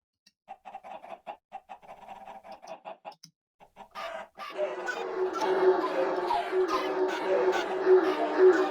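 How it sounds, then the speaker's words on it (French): Chickens in Minecraft Party Games cluck in sparse, quick bursts, then a louder, denser flock of clucking and squawking fills the rest. "Ah oui, c'est les poulets."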